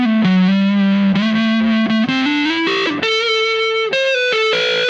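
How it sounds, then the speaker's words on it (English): Electric guitar played through a Big Muff fuzz pedal with no compressor ahead of it: thick, saturated sustained notes sliding between pitches, loud and close, played alone with no talking. "I think it does sound a bit better without having the compression in before the muff"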